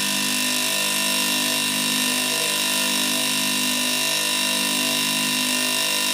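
A rotary compressor, wired with phase direct to the compressor and neutral added, is switched on and runs as a steady, loud, close mechanical hum and whine that holds without a break throughout, with no talking.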